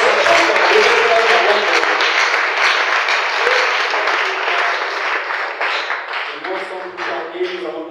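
A church congregation applauds together in sustained clapping that stays dense and loud before thinning out, and a single voice begins speaking over the last couple of seconds.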